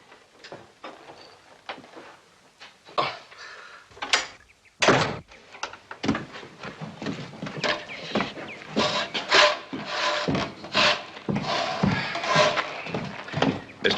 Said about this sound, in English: He's outside sawing wood.